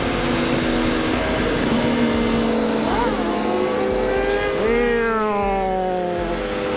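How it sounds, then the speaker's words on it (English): Motorcycles rev hard and roar past during wheelies on a night ride, engine pitch climbing and sweeping as they accelerate close by, with voices shouting over the steady loud engine noise. "Just listen to the sound of the bikes when they do it too."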